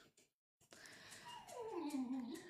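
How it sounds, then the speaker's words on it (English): A dog gives a drawn-out, wavering whimper that slides downward in pitch, after a couple of short soft sounds, fairly faint and close. "I don't know if you guys can hear him barking."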